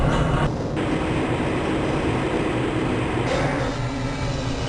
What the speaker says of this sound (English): This train is inbound from the Area 8 topside dormitories to the Central Transit Hub in Area 9.